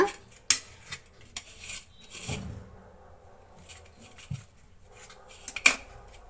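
A knife cuts through layered badusha dough, producing sparse, close scrapes and sharp clicks against the board, separated by quiet pauses.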